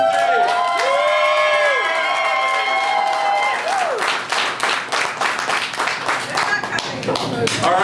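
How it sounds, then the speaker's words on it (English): Crowd at a live event makes noise on cue, with clapping and cheering building into a dense, loud wash after a few seconds of sustained tones and voices. "on the count of three, make a lot of noise and clap back in"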